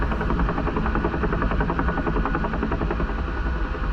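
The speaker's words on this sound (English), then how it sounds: "oh no, that's too much throttle. Come on, get some speed up here." UH-1H Huey helicopter engine and rotor in the DCS World flight simulator, a dense steady droning whine with rapid blade chop, continuous and close throughout.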